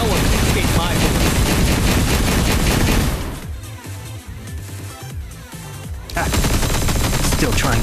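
Rapid, dense gunfire in the video game Wuthering Waves or PGR, loud continuous bursts that dip into a quieter rattling stretch midway before resuming at full force.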